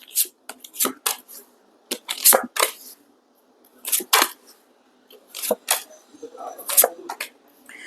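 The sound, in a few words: tarot cards being shuffled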